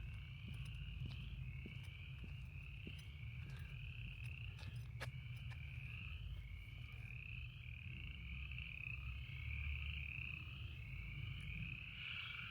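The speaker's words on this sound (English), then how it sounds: "Listen to those frogs. They are celebrating." A chorus of frogs croaks steadily at night outside a historic county courthouse in Yanceyville, North Carolina, with a continuous high trill over low pulsing calls, moderately distant and unbroken, with no talking.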